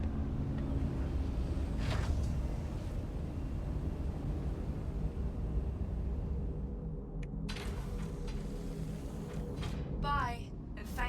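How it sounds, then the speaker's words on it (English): Engines of the Starlight ship in Star Citizen rumble as it lifts off on VTOL, a steady, loud low drone with whooshing swells, someone talking over it throughout. "I can already tell the cab noise of these engines are going to be freaking awesome"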